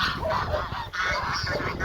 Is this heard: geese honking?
yes